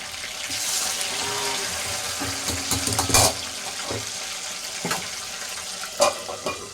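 Chicken 65 fries in a pan with a steady, watery sizzle close by, broken by a few sharp clinks and bursts of spatter, with no talking.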